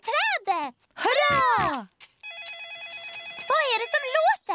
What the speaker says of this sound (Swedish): Pappa Gris mobiltelefon ringer.